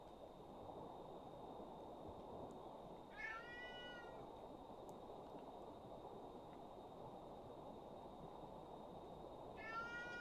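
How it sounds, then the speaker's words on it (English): A house cat meows twice in the background, two brief, faint cries spaced several seconds apart over a steady broadband hum and noise. "Apologies for the background, cat."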